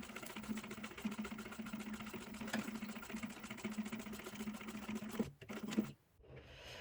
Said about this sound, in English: So let's take it over to the sewing machine and we are gonna top stitch right here.